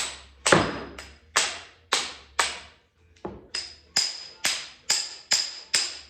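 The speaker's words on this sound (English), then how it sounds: "So to get this off, I'm just gonna try and hit it with a hammer." A hammer knocks an old hatchet head loose from its handle, about a dozen sharp, ringing metallic strikes in a steady rhythm with one brief pause, close and loud.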